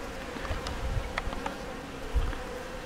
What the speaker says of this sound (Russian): Пчелки прилетают на теплые поилки и берут пресную воду.